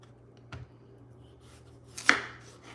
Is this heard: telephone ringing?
no